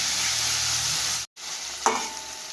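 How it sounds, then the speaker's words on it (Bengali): Onions sizzle and hiss in a hot pan for a dhaba-style mutton dish, a dense, loud, close frying sound that cuts out for a split second, followed by a clink. "পেঁয়াজটা ভাজা ভাজা হয়ে গেছে,"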